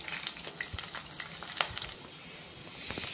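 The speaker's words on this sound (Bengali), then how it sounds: "উল্টে পাল্টে ভালো করে ভেজে নিতে হবে লাল লাল করে" Potato spring roll chips fry in hot oil, giving a steady soft sizzle with scattered crackles and pops, close and fairly quiet, with no voices.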